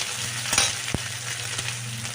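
Gobindobhog rice frying in a pan with half a spoon of chili powder, stirred through: a steady close sizzle with a couple of sharp scraping knocks from the spoon, no voices.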